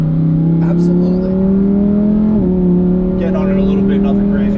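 A 2021 Lamborghini Huracan V10 fitted with an FI exhaust idles with a deep, steady drone, then briefly blips its revs, rising and dipping a little, loud and close throughout, with short bits of talk over it.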